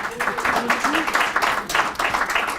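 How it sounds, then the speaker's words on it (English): An audience claps for the panelists at the close of a panel discussion on universal health coverage and family planning, a steady, dense round of applause with a voice faintly underneath. "I'm gonna ask a round of applause for the panelists, for Alison and for Yewe, please."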